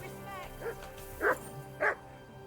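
A dog in a video game barks in three short, distinct yelps spaced about half a second apart, fairly loud over a steady background of game music and ambient hum.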